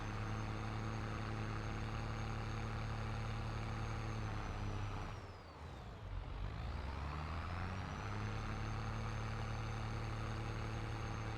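A Farmall 1206 tractor pulls a many-shanked chisel plow through a field in Farming Simulator 22. Its engine holds a steady, close, droning note that dips briefly midway, then returns to a constant hum.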